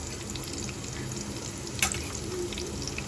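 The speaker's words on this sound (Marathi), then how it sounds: "तेल गरम करून घेतलेलं आहे आणि आमच्या मातोश्रीनी त्याच्यात आधीच कांदा टाकला आहे" Onion frying in hot oil gives a steady, close sizzle, with one brief clatter of a spoon partway through; nobody speaks over it.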